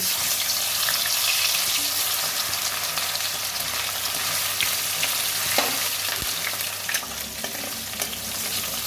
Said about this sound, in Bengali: ওই তেলে একটা সেদ্ধ আলু করে রেখেছিলাম, ওই তেলের মধ্যে দিয়ে দেবো।